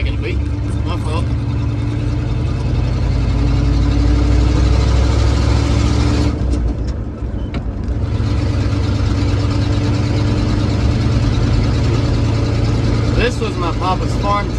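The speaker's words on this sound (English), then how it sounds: "This was my papa's farm truck." An old cotton-farm truck with big air tanks on the side idles steadily, a low, continuous engine rumble close by. The idle runs throughout and dips briefly midway.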